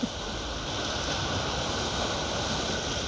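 Steady wash of ocean waves and rushing water near Cape Collinson and Big Wave Beach, Hong Kong, a constant moderate roar without distinct breaks, heard from nearby.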